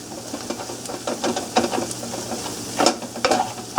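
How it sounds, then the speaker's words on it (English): Mushrooms sautéing in a pan for Oysters Bienville, a moderate sizzle broken by irregular scrapes and stirring taps from a utensil, with no talking. "So I'm going to saute this down"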